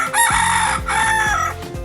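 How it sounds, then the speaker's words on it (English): A rooster crows loudly and close by, one full cock-a-doodle-doo call with a long drawn-out final note, with no other sounds. "It's a rooster."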